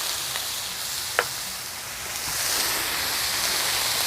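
Minced garlic added to onions on a grill for Philly steak, giving a steady soft sizzle and hiss with a single faint clink near the start.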